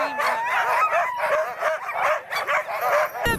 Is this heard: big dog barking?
yes